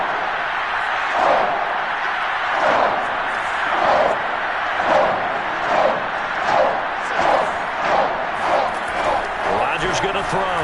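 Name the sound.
football stadium crowd cheering before third down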